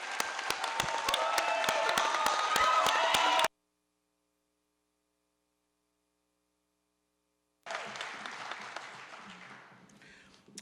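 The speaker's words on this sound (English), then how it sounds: "if you could take a little time and just give them a round of applause for completing this process" Dense crowd applause at a law enforcement training academy graduation, loud for about three seconds before a sudden cut to silence, then resuming and gradually fading out.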